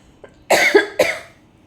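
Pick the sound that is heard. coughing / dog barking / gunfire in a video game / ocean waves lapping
coughing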